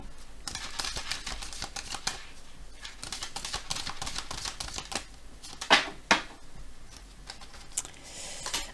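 Oracle cards are cut and shuffled close by, a steady papery rustle and flicking patter with a couple of sharper snaps near the end.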